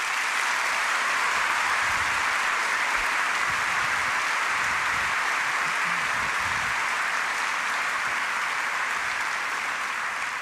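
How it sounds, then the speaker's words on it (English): Sustained, dense clapping from a large audience at a Richmond Forum panel fills the room evenly for the whole stretch, loud and continuous without voices over it. "invite one more round of applause for all three of these panelists"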